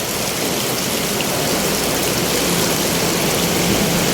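Deep floodwater rushes steadily through a flooded city street where tricycles and motorbikes struggle to pass, a loud, continuous roar like heavy rain or a stream, with no voices.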